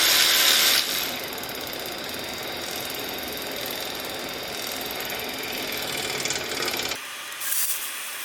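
An electric ratchet runs down lifter bolts on a 2007 Chevrolet Avalanche with a 5.3 LS V8, giving a steady, close buzzing whir for several seconds before it stops, with no talking.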